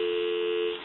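A steady electronic dial tone from a repaired brass and marble table telephone holds for under a second, clear and unbroken, with no voices.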